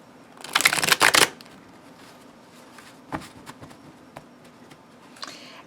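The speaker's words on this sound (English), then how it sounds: "I'm a rifle shuffler." A deck of Goddesses & Animal Spirits knowledge cards being riffle shuffled: one dense, crackling burst of card flutter lasting under a second, then a few soft, scattered taps and clicks of the cards being squared.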